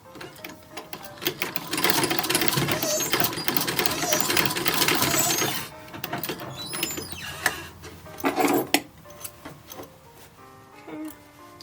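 A sewing machine stitching down a 1930s Hooverette dress runs in a long, loud whirring burst, then stops and starts in shorter runs with small mechanical clicks between them.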